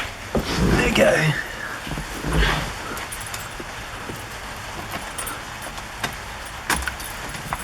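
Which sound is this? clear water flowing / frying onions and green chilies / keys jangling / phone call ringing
keys jangling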